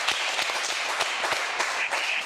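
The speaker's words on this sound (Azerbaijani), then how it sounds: "Bir ona alqış göndərin." Audience applause greets an Azerbaijani singer, a steady wash of clapping with scattered sharper claps throughout, fairly close and even in loudness.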